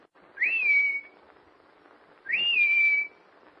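A person whistles a signal twice outdoors near cabins at dusk, two clear rising-then-level notes about two seconds apart, each lasting under a second against quiet background.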